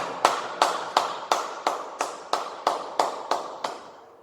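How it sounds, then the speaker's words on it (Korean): A church congregation at a Korean Friday worship service claps in a slow, even rhythm, about a dozen crisp unison claps in steady succession, with no voices. "우리 하나님께 영광의 박수 올려드리겠습니다."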